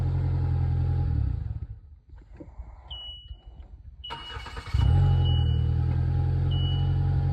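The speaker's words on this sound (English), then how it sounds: "Okay, cranking real strong." A Polaris Slingshot's engine running, falling quiet for a few seconds while the starter cranks on a new battery, then catching and roaring back to a loud, steady idle.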